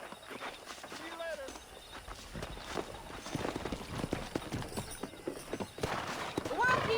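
Horse hooves clip-clop in the open world of the Red Dead Redemption video game, with an occasional whinny, running steadily under a voice and other game sounds.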